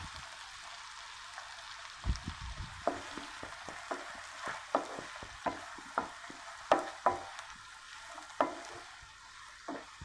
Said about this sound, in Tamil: வறுத்துட்டு இனி நாம் வெட்டி வச்சிருக்கிற சின்ன வெங்காயத்தை உள்ளே சேர்த்துடலாம்